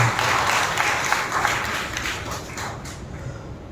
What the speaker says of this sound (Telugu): బిగ్గరగా చప్పట్లు కొట్టి ప్రభువుని మాట్లాడుతున్నాం.